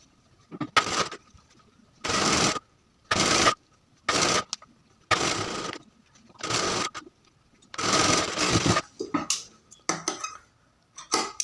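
A sewing machine stitches piping onto a dress in several short bursts of rapid whirring, separated by brief pauses, loud and close, with no talk.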